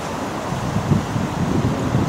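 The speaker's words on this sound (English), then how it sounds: "Under 24/7 test in wind of about 20 gusting to 30." Strong wind of about 20 knots gusting to 30 buffets a small robot boat at sea, a steady roaring rush with brief louder gusts and faint surf underneath, no voices.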